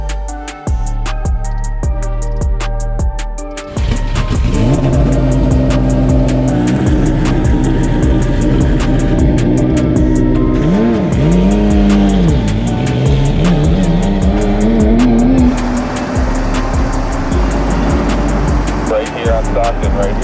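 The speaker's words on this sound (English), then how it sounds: "Race cars on the street." Race car engine revving and accelerating on city streets in San Francisco, loud and close with rising pitch sweeps, under a steady music bed and some talk.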